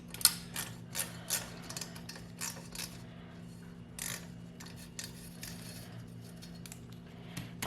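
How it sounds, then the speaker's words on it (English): Small metallic clicks and ticks come from a screw being worked loose on a Honda UMK422 string trimmer during servicing, soft and intermittent over a steady low hum. "We're going to take this screw out."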